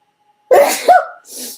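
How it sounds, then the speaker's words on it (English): A single sharp, close sneeze with a quick inhale and explosive burst, followed by a brief breathy exhale. "with that sneeze coming through"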